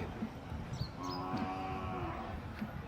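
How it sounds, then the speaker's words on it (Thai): Water buffalo low and moo at an outdoor cattle and buffalo market in Warin, with a few short calls and one longer drawn-out moo over a murmuring crowd. "โอ้ควาย"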